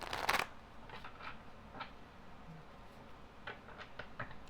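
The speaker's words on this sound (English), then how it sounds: "we're going to put your cards down and their cards down too." Tarot cards shuffled in a quick burst of crisp riffling at the start, followed by several soft, faint slaps and slides as cards are laid down on a surface in a quiet room.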